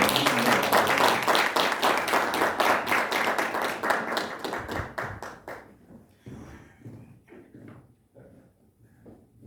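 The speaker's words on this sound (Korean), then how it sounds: "또 대학원장, 연구원장 축하의 박수로 한번." Audience applause at a Korean academic doctoral forum paper presentation, congratulating a graduate school dean and an institute director. Dense clapping starts strong, then thins out to scattered individual claps before fading.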